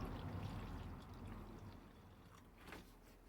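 Spirit vinegar pours steadily into a container for salt-and-vinegar rust removal, a continuous low splashing stream that fades slightly toward the end.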